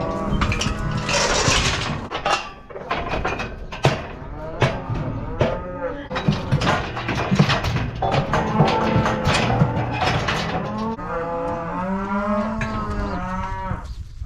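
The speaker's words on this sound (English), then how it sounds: "The calf we got in the chute is our black bottle calf's sister." A calf, sister to a black bottle calf, moos repeatedly and loudly in a cattle chute, with long drawn-out calls running through the whole stretch, close to the listener.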